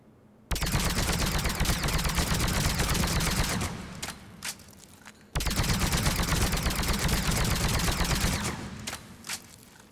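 Full-auto bursts from the Indra sniper rifle in Mass Effect 3, two long loud sustained strings of rapid shots, each cutting off into a brief gap with a few single echoing cracks before the next burst starts.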